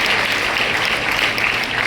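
Sustained audience applause at a 191st anniversary event for Madras Christian College Higher Secondary School in Chetpet, Chennai: dense, steady clapping from a large crowd, loud and continuous with no talk over it.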